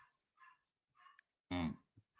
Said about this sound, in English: the dogs are going. My dog's going crazy